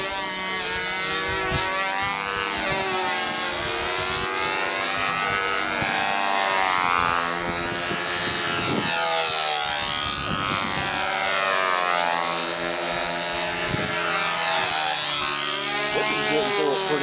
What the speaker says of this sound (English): I got Larry's flight, the whole flight, with the Bearcat